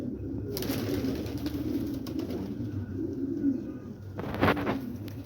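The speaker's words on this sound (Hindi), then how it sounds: "इनमें से तकरीबन जो है ना उड़ान वाले कबूतर हैं।" Flying pigeons coo steadily in soft, low repeated calls, close by, with a brief rustle or flutter near the end.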